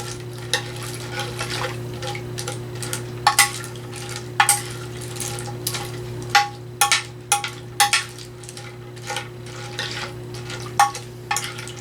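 Scattered scraping and clinking of a utensil stirring pasta in a baking dish, irregular strokes over a low steady hum, no voices.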